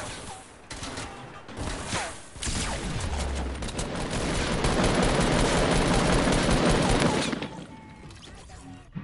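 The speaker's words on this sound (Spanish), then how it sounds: "me dispara" Sustained video-game gunfire aimed at the player, a dense, loud burst of rapid shots that builds into a continuous fusillade for several seconds before breaking off, with scattered single cracks before it.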